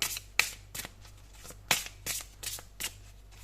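Tarot cards being shuffled by hand, with a quick series of sharp riffling bursts at an uneven rhythm, close and clear, each flutter short and separated by brief pauses.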